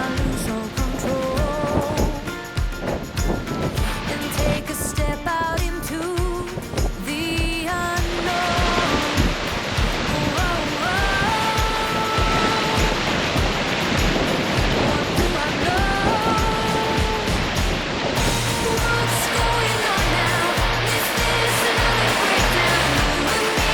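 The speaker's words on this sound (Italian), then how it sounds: "Perché c'è la cascata là dietro alle nostre spalle, una grossa portata d'acqua" Large waterfall with heavy flow behind a muddy, wet path near castle ruins, giving a loud, continuous roar of rushing water that holds steady throughout with no talking.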